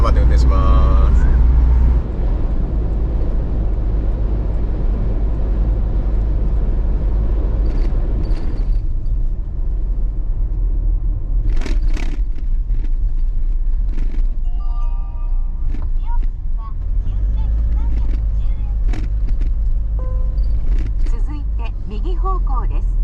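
A camper van travels on a highway in winter in the Tohoku region while being buffeted by wind. A constant low engine and road rumble runs throughout, and people talk over it.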